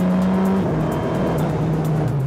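A race car engine roaring at full throttle on a circuit during a driving course, loud and steady, with a high sustained whine and no voices.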